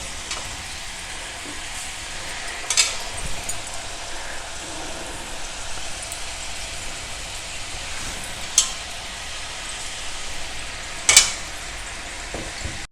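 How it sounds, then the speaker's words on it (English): Thenkuzhal dough fries in hot oil over a medium flame, a steady close sizzle and bubbling with occasional sharper crackles and clinks. "Fry this tengural on a medium flame"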